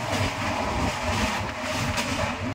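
Passenger train heading toward Howrah heard from inside a carriage, a continuous loud rumble and rattle of wheels and coach without talk.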